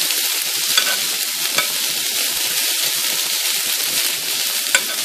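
Onions sizzle in a frying pan for smothered pork chops, a bright steady crackle close up, with occasional sharper pops and stirring scrapes.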